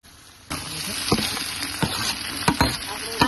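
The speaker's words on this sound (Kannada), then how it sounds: "ಇವಾಗ ನೈಸಾಗಿ ಫ್ರೈ ಆಗಕತ್ತದ್ರಿ ಇದು" Whole black pepper and seven or eight cardamom pods sizzle in hot oil in a pan, a steady close hiss that starts abruptly and is dotted with small crackles and pops.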